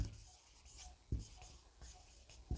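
Writing on a board during an English grammar class: soft, faint scratching strokes come in short repeated bursts, each punctuated by a low tap, with no talk over them.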